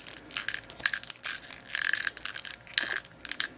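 Ball joints on a Star Wars Black Series Chewbacca plastic action figure squeak and creak in short bursts as it is twisted, with several close, high-pitched grinding squeals and small clicks.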